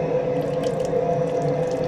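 Water runs steadily from a tap in an InterCity-2 train washroom into the basin, a continuous close hiss and splash with a faint mechanical undertone and no talking.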